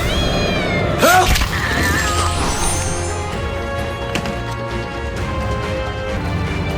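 A cartoon cat gives a loud, close meow with a rising and falling pitch over a busy animated soundtrack, followed by a few fainter strained cries.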